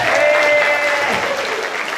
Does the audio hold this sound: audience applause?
yes